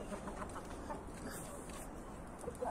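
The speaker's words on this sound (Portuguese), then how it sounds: "O galo preto, a galinha preta e a galinha mais clara." Backyard flock of chickens with a black rooster, a black hen and a lighter hen, soft scattered clucks and small calls over a low outdoor ambience, fairly faint and unhurried.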